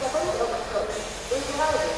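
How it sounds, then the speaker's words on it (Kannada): A train pulls into Katpadi railway station with a steady, loud hiss and rumble, a faint metallic squeal rising and falling on top, continuous throughout. "ನೆಕ್ಸ್ಟ್ ಟ್ರೈನ್ ನೋಡಿ ಎಂಟ್ರ್ ಆಗ್ತಾ ಇದೆ ಕಾಟ್ಪಾಡಿ"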